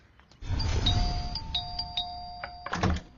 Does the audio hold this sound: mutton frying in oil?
no